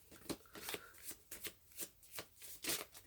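A deck of tarot cards being shuffled by hand, a run of quick crisp riffling bursts in a steady rhythm, close and fairly quiet, with no voices.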